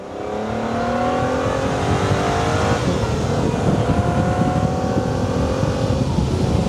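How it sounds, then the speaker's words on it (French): Aston Martin V12 Speedster accelerating hard, a loud, continuous engine roar that climbs steadily in pitch, dips briefly at a shift near the midpoint, and then pulls upward again with no voices over it. "C'est vraiment juste quand tu rétrogrades et que tu vas pas vite que tu entends la voiture. Une accélération là."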